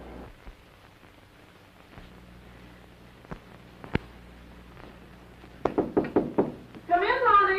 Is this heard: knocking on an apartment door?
yes